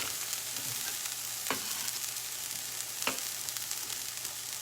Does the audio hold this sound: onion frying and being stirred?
yes